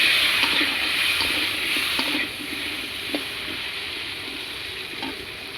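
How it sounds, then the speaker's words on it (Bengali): Potatoes fry in a little oil in a wok, giving a steady close hiss and crackle that runs throughout with a few faint stirring knocks and no talking. "এবার আমি একটু আলুগুলো ভাজা ভাজা করে নেব।"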